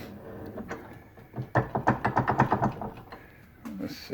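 A Harbor Freight 6 inch bench vise being spun open by hand, its screw producing a quick train of about a dozen close, rattling clunks in one short burst between quieter handling noises.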